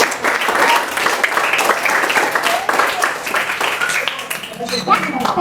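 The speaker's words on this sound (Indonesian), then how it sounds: "Kita tepukan untuk kakak alumni dulu" A crowd at a primary school's 100th anniversary celebration claps for alumni, loud, lively applause with scattered individual claps standing out, while voices talk and call out over it.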